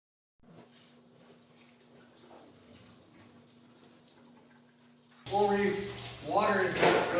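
Water from a tap or hose runs while a hunted deer carcass hangs for cleaning, a steady moderate hiss and splash that turns louder and more splattering near the end.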